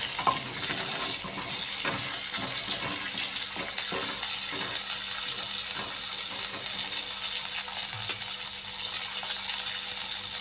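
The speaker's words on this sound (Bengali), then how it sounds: "ফুলকপি ভেজে নিচ্ছি।" Cauliflower florets fry in oil left over from frying potatoes, a constant dense sizzle and bubble close up, with occasional stirring knocks from a utensil against the pan.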